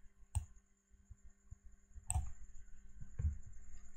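Mouse clicks while working in Photoshop: three sharp, isolated clicks, spaced unevenly and fairly close, with quiet handling noise between them and no speech.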